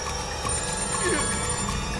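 A telephone bell rings with a high, steady trill through a short stretch of a room scene, fairly quiet and partly under a voice.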